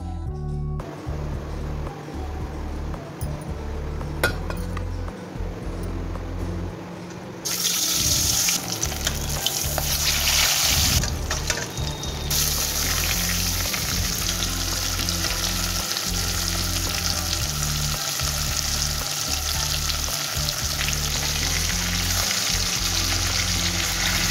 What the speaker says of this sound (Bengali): তো চলো এখন আমি ইলিশ মাছগুলো আমি একটু ভেজে নেব